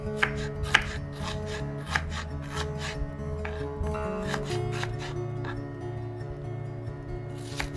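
A knife chops vegetables on a board for paneer butter masala, with steady close cutting strokes and a few sharper knocks repeating through the clip over a low hum, no talking.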